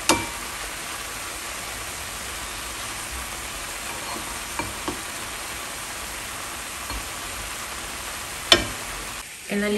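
Chicken pieces with mushrooms frying in a pan, giving a steady, close sizzle that runs throughout with a few brief clinks and bumps near the end.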